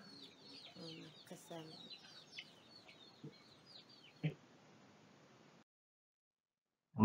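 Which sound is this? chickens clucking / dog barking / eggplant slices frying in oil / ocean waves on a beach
chickens clucking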